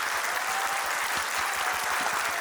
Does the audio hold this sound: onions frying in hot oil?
no